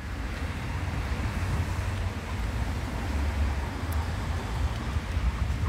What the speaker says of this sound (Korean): 아, 바람 많이 분다.